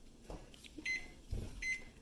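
A microwave oven beeps as its timer is set for cooking corn, giving two short, clear electronic beeps close by, with soft clunks from handling the door and controls in between.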